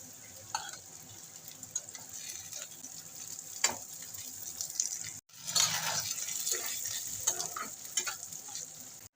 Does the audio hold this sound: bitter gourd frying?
yes